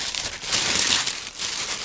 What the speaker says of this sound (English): This is really cute tissue paper.